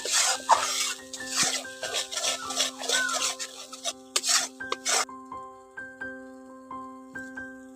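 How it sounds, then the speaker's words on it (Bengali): Spice masala of red chilli powder being stirred and mixed in a pan while cooking a katla fish curry, a steady scraping, rasping rub that repeats for several seconds, with a sustained tonal hum behind it. "দিয়ে ভালো করে এখন মিশিয়ে নিচ্ছি"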